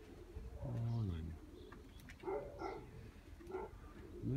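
Soft coos and low warbling calls from three- to four-month-old pigeons in winter, a few scattered bursts against faint outdoor background.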